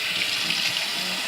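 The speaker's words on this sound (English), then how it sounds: "I'm just going to go ahead and put this on lukewarm water." A sink faucet runs lukewarm water in a steady, even hiss of splashing flow, close and continuous with no voices.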